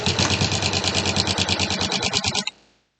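Sewing machine with a walking foot stitching through quilt fabric and batting, a steady rapid mechanical chatter running close and loud for about two and a half seconds before stopping abruptly.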